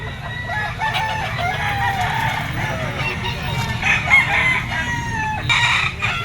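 Gamefowl roosters and stags, including a green-legged Gilmore stag, crow repeatedly at a pen, with overlapping crows and clucks sounding close and loud.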